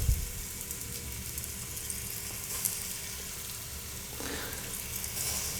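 Beef pieces sear in a hot pan over medium heat for a one-pot stew, a steady close sizzle and crackle with a sharper burst of spitting near the end.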